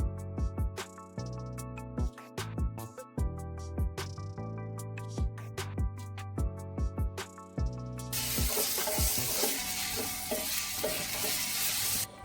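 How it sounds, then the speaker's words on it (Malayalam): Crushed masala sautéed in a pan for a tender jackfruit masala fry: a tune plays alone at first, then a loud, steady sizzle with stirring takes over for the last few seconds. "അത് ഇട്ട് നന്നായിട്ടൊന്ന് വീണ്ടും ഒന്ന് വഴറ്റി കൊടുക്കാം."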